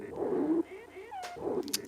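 A cat's meow run through a resonant modular synthesizer filter, heard as a few short filtered, pitch-sweeping tones with some voice-like chatter around them, close and moderately loud.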